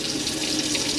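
Hot water runs steadily from the kitchen tap of an Auto-Trail Tribute F72 motorhome, a close, continuous splashing stream into the sink with no other sounds.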